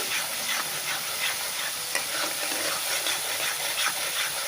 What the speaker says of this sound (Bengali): আমি মশলাটা ভালো করে কষিয়ে নেব